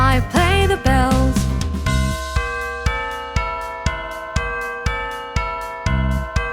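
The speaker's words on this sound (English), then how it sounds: "I play the bells." Bells ring out a children's song melody, bright repeated chimes struck in a steady rhythm, each note decaying before the next, with music behind them and no speech.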